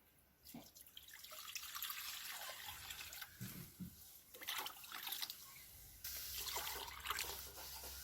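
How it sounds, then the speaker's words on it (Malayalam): Water is poured into a clay pot set out as a drinking bowl for birds, a quiet uneven trickle and splash with a few faint knocks, close by and not loud. "നമ്മൾ ചട്ടിയിൽ വെള്ളം നിറയ്ക്കുകയാണ്"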